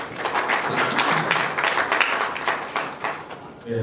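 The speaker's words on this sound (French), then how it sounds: "que je vous demande d'applaudir" Applause from an audience at a youth training workshop, a close, fairly loud patter of clapping that runs steadily and fades slightly at the very end.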